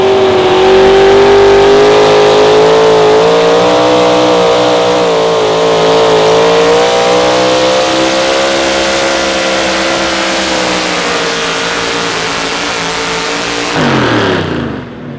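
Modified 4x4 Ford pickup truck at an outlaw truck pull in Wisner, Nebraska, its engine roaring loud and close in one sustained run, pitch creeping upward before cutting off abruptly near the end.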